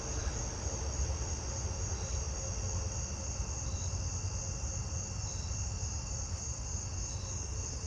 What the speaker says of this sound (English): I think I'm hearing an Allard's ground cricket too.